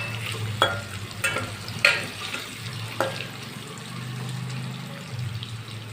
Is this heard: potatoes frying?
yes